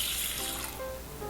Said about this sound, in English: add a cup and a half of water